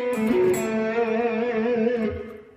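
Electric guitar playing a slow blues lick, sustained bent notes ringing clearly and alone, fading out at the end.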